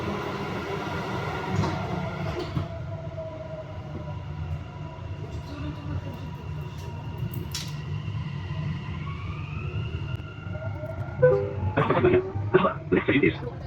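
A Dubai Metro Red Line train runs between stations near Jebel Ali, a steady low rumble with rising and falling whines of the motors, and a few chimes or beeps toward the end.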